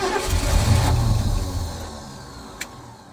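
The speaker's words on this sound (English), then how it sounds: "We're gonna crank it over and see if we can keep it running for a minute for science." A long-sitting 1971 Ford F-100 pickup engine cranks and catches, a loud low rumble that rises in the first second, then settles and fades toward idle, with a short clank near the end and no talk.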